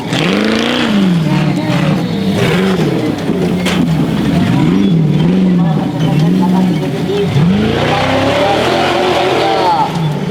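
An off-road vehicle with an LS3 engine revs hard at an outdoor event, its roar rising and falling in repeated surges, loud and close, with a voice talking over it.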